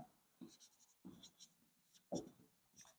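A pen scratches out an answer on paper, with quiet bursts of short strokes and taps close by in a silent room, no talking.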